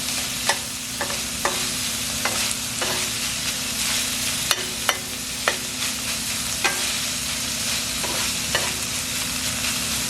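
Garlic sizzles steadily in a hot pan for zucchini lasagna rolls, a dense crackling hiss punctuated by regular sharp clicks and scrapes as the pan is tossed and stirred.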